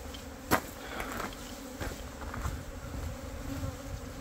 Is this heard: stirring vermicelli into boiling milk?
no